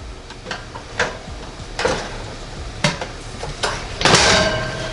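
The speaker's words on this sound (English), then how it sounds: "get this bottom pan out, spin it around, move it towards the front, slide things back in" A metal baking pan holding box-mix cake batter is pulled from a NuWave Bravo XL smart oven, turned and slid back in. Several sharp clanks and scraping knocks are spaced apart against a quiet hum.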